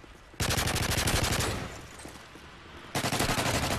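Bursts of rapid automatic gunfire from an explosive decoy in Call of Duty Modern Warfare 3, two loud sustained volleys separated by a quieter lull.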